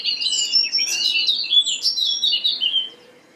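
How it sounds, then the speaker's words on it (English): Small birds chirp and trill steadily in the morning, bright overlapping tweets close by for about three seconds before fading out. "Birds are very noisy this morning,"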